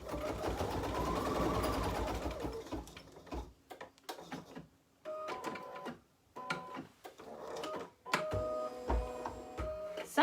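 An embroidery machine set to about half speed stitches with rapid mechanical chattering in bursts, pausing briefly between runs before starting again, close and fairly quiet.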